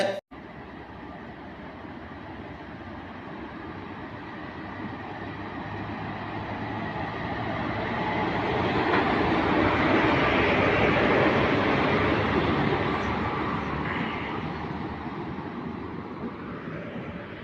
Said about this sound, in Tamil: காலை திண்டுக்கல்லிருந்து விழுப்புரம் செல்லும் எக்ஸ்பிரஸ் ரயிலானது வடமதுரை ரயில் நிலையத்தில் நின்று சென்றிருக்கிறது